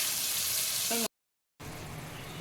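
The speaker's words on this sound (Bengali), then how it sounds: "এবার মশলাটা ভালো করে কষানো হোক ততক্ষণ।" Masala spices with salt sautéing in a pan for a vegetarian masala paneer, a steady close sizzle and fry broken by a short silent gap, then the frying resumes.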